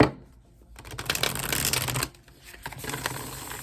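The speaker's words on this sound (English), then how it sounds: "One more shuffle" Tarot cards being shuffled in two quick riffling bursts, crisp and close, separated by a brief pause.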